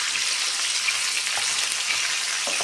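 Shrimp frying in a pan, a steady, dense hiss of hot oil sizzling up close with no talking.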